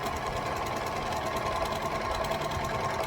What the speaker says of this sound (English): I am just going to overlock this little area of the shoulder